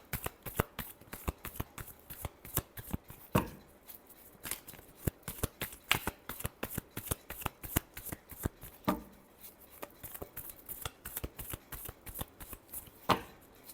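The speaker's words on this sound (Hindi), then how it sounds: "Last shuffle." Tarot cards being shuffled by hand in rapid, continuous riffling bursts, close and crisp with brief pauses between passes, no talking.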